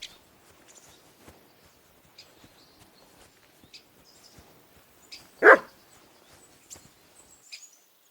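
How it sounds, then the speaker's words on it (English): A single dog bark rings out from a medieval village in the game Kingdom Come: Deliverance 2, one sharp loud burst standing out against quiet ambient rustles and faint footsteps. "Barking."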